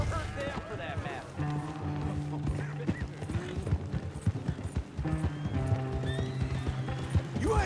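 A horse gallops in Red Dead Redemption 2. Close, rapid hoofbeats thud in a steady rhythm, with neighs and whinnies rising above them while characters talk over the action.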